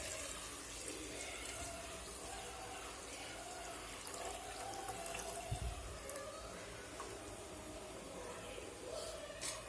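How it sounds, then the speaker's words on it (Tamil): Toor dal cooking water poured into a pot of pepper rasam on the stove, a steady continuous watery splash and trickle lasting throughout, close and moderately loud. "அந்த தண்ணி இதில் ஊற்றிடலாம்."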